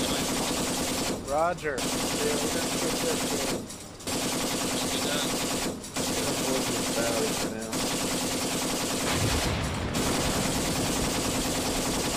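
Sustained bursts of machine-gun fire in a war video game, loud rapid rattling broken by short pauses over several seconds, with a voice speaking briefly over it.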